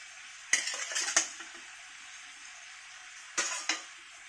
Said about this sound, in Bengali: মাছ দিয়ে ঢাকন বন্ধ করে দেবো।